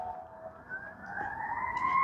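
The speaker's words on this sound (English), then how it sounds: "I'm sorry about the sirens." A siren wails from a distance, its tone slowly rising and growing louder as it approaches, with faint traffic noise beneath.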